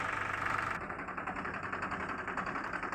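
A 2010 Powertrac 439 tractor with a 39 horsepower engine idles close by, a steady low rumble with a rapid, even knocking pulse and no voices.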